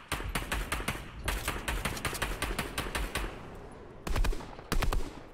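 Rapid gunfire in Fortnite, a near stream of quick repeated shots with brief pauses, ending in two louder separate bursts, no voices.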